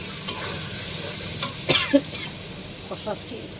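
Katla fish curry masala being stirred and fried in a pan, a steady low sizzle with a few soft scraping strokes of the spoon, close and fairly quiet, no talk.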